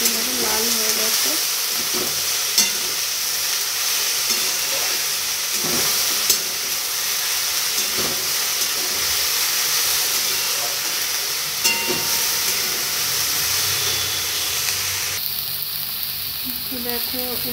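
Cabbage sizzles steadily in a hot pan while being stirred, with scraping stir sounds and occasional clinks over a continuous frying hiss, close and fairly loud with no talk.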